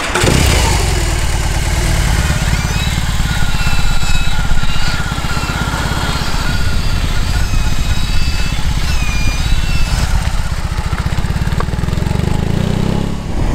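A BMW R18 motorcycle's big boxer engine runs continuously at a low, uneven idle while being manoeuvred in reverse gear, loud and close throughout with no talk.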